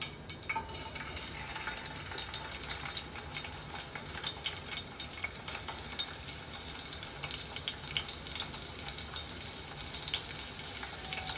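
Garlic frying in hot oil for a Malvani prawn curry, a steady close sizzle with continuous bright crackle and occasional stirring, no voices.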